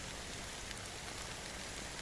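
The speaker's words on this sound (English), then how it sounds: "how long has this rain been going on for?" Steady rain falls in the video game Honkai Star Rail, an even, dense hiss of drops that is soft and constant throughout with no voices.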